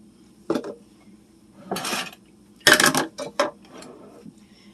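Stovetop stuffing being stirred with broth and a stick of melted butter for a chicken casserole, a few separate bursts of spoon scraping and clinking against the dish, close by with quiet gaps in between.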